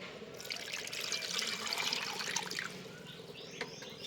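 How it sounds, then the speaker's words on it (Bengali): Chicken pieces being washed under running water in a sink, a continuous moderate splash and trickle with a few drips near the end. "এবার মাংসগুলো প্রথমে আমি ধুয়ে নেব ভালো করে জল দিয়ে।"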